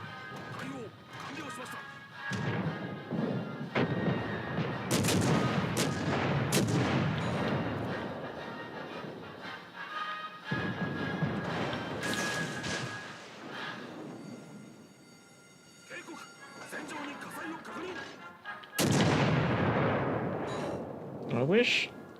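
Naval guns fire HE shells in the World of Warships: Legends video game, several heavy booming salvos with crashing impacts rolling across about twenty seconds, loud and dense, while a person talks over the action.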